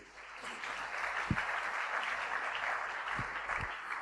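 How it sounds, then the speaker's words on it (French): A church congregation applauds during a French-language sermon, a continuous moderate round of clapping with a few sharper thumps, heard from within the hall with no speech over it. "Acclamons la parole du Seigneur."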